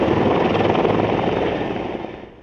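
Helicopter rotor and engine roar over a brush fire in Mission Trails Park, Santee, during a water and retardant drop, loud and steady, fading slightly toward the end.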